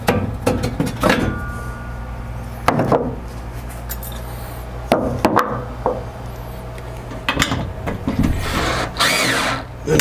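A power drill tightens screws on a Lionel O scale train display shelf, with repeated short whirring bursts, stops and restarts, and clicks of handling close by.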